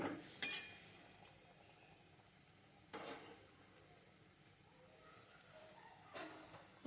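A metal lid lands on a cooking pot of steamed hilsa fish in water and soybean oil, making a few separate faint clinks and clatters spaced seconds apart against a quiet kitchen background.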